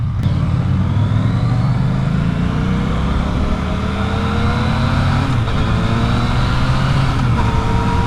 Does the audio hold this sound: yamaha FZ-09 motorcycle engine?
yes